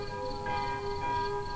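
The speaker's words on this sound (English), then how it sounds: "As night fell suddenly over the hills, the curfew bell tolled its warning." Curfew bell tolling at nightfall over hills, a faint resonant bell tone ringing and humming in a sustained decay, with a soft fresh stroke partway through and no talking.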